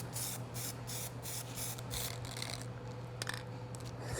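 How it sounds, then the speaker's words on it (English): Plasti Dip is sprayed from a can onto textured craft foam in a series of short, close hissing bursts with a low steady hum beneath, and a few small knocks near the end. "We're going to go straight to Plasti Dip, put on like 3 good coats,"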